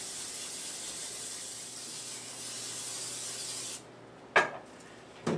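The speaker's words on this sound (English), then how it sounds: "Spray it with Pam." Pam cooking spray hisses steadily onto a baking sheet for several seconds, close and clear, then stops, followed by a couple of sharp knocks.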